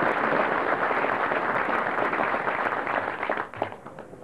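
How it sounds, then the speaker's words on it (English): An audience applauds drill sergeants at a military graduation at Fort Benning, with dense, sustained clapping from a large crowd that fades out near the end. "So a round of applause for the drill sergeants"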